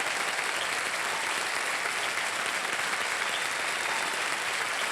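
Studio audience on the Kaun Banega Crorepati quiz show claps in a steady, dense burst of applause that carries evenly through the whole stretch, loud and unbroken, with no speech over it.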